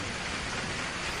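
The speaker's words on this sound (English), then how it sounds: "I've also made my videos with a rainy background so as to help you fall asleep" Steady, dense rain falling on a surface, a continuous even wash of sound with no gaps or talk, filling the background close and fairly loud throughout.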